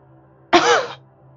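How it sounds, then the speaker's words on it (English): A single cough bursts out during a yoga class, short and fairly loud against a quiet room, lasting about half a second. "Sorry for the coughing."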